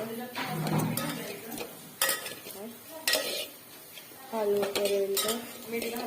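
Onions are stirred in a pan until browned, and a spatula clinks and scrapes against the metal in uneven bursts while a voice talks intermittently.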